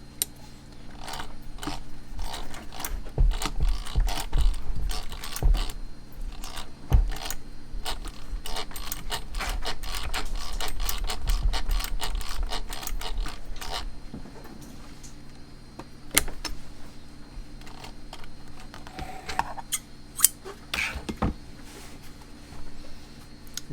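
A vintage Singer 107W1 sewing machine under rebuild runs with a rough mechanical hum, surrounded by sharp metallic clicks and rattles of its parts that come and go.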